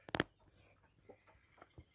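A loud burst of squawking from a hen up close, followed by a few softer, scattered clucks and short calls.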